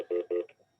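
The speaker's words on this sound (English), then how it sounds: "that might be your phone, Bill." Telephone ringing indoors during a meeting, two short electronic rings in quick succession followed by a faint tail, fairly quiet.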